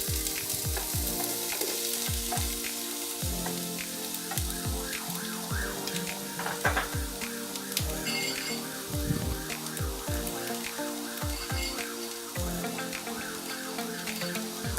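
Chopped onion frying with cinnamon, cardamom and bay leaf for chicken pulao, a constant close sizzle layered with a steady rhythmic pulsing tone and occasional stirring scrapes, no voices.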